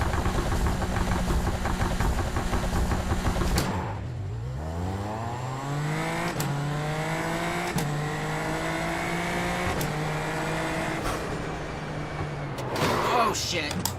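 Formula Lights single-seater engine on a racing simulator, loud revving that drops sharply and then climbs through several rising sweeps, with speech present over parts of it.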